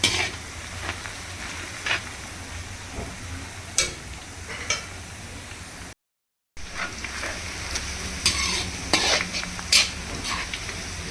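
Soybean chunks and browning ingredients for potato soybean pulao fry in a pan on a stove, a steady sizzle with intermittent scraping stirs, close and moderately quiet, with a brief dropout midway.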